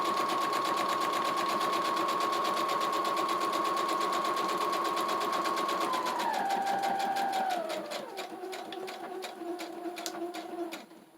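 A sewing machine runs close by with a rapid, steady mechanical chatter, stitching a quarter-inch locking seam on a cardstock junk journal insert. Its pitch drops and the stitching slows toward the end.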